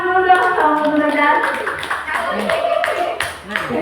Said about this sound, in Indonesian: Kasih tepuk tangan dulu dong sama Bu Nurida.